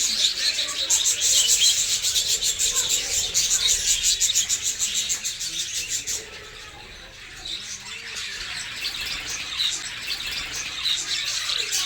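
Many birds in the aviary at Indroda Nature Park chirp and twitter in a dense, steady chorus close by, with faint rustling beneath.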